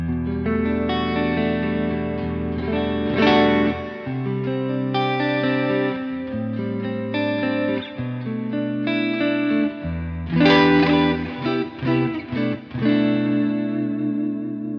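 An electric guitar played through a Line 6 Firehawk FX multi-effects unit on a JT Green Chorus preset, sustained chords and melodic notes with a shimmering chorus tone and light reverb, played alone and fairly loud.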